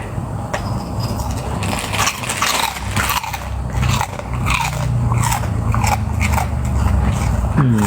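Loud, close chewing with repeated wet crunching bites in an uneven, continuous rhythm, alone with no voices.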